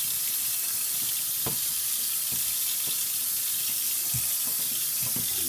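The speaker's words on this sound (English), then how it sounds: "let's run some hot water on here" Hot water runs steadily from a tap into a sink while a plastic veggie crisper shelf from a fridge is rinsed, giving a continuous close splashing hiss with a few soft knocks and clunks.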